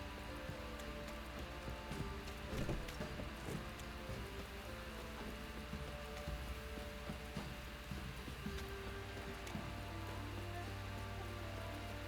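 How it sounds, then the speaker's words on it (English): Steady patter of rain in the video game The Witcher 3: Wild Hunt, with a constant hiss, layered over a low droning background and scattered faint clicks; no voices. "Looks like rain."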